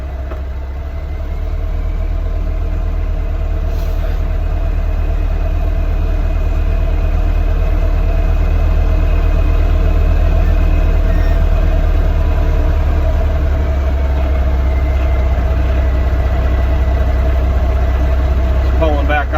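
A Ford L9000 truck engine runs steadily on its first ride down a laneway, a loud, continuous low rumble near the listener with little change, and faint voices underneath.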